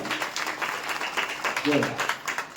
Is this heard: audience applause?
yes